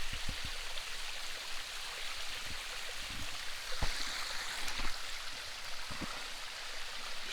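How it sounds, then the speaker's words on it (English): Small waterfall spilling over layered shale in a forest stream, a steady close rush of water with scattered splashes and drips, no voices. "just a little waterfall."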